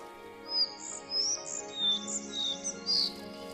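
A collared flycatcher sings in an older deciduous forest, a run of high, thin chirping phrases repeated several times over a low, steady background hum.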